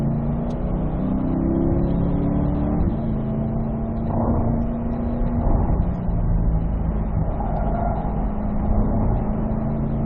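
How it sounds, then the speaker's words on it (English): A Corvette accelerating hard out of a corner on a race track, a steady loud engine drone with rising pitch heard from inside the car, continuous with no talking. "Now accelerate out."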